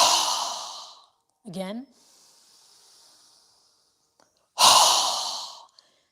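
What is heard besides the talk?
strong exhales through the nose in yoga breathing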